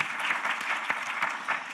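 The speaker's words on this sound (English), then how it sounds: "So round of applause for Steve for all that." Applause from a conference audience at a corporate panel during a startup summit, a steady wash of many hands clapping for under two seconds with a few sharper individual claps standing out.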